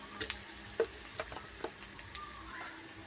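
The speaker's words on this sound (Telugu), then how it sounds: "ఇప్పుడు మసాలా వేసుకోవాలి మంచిగా కలుపుకోవాలి" Masala spices stirred in a frying pan for a mint and onion curry, with soft scraping strokes and a few light clicks of the spoon over a quiet, low sizzle.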